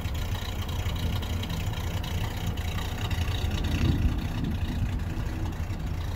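A 1965 Chevrolet C10 pickup with a three-on-the-tree column shift drives along a road, its engine a steady, loud low rumble with road and wind noise throughout, swelling briefly midway.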